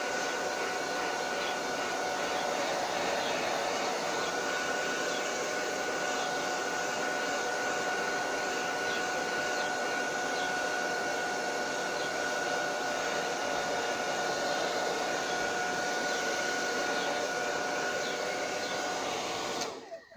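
A hair dryer blows steadily on a reverse decoupage mirror-effect project, a loud, close, continuous whirring hiss that holds for the whole stretch and then cuts off at the end.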